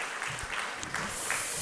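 A church congregation claps together during a Sunday morning service, with dense, loud applause filling the whole short moment.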